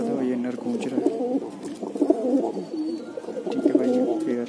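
Black Zaakh pigeons, a male, coo in soft, repeated throaty phrases close by, one low bubbling call after another, with faint chirps in the background.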